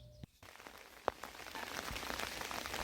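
Rain patters on surfaces in the mountains in spring, a dense, steady spread of droplets with one sharp close drip, growing a little louder toward the end, with no talk.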